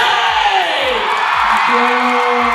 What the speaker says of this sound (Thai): ขอเสียงกรี๊ดกับจุนเ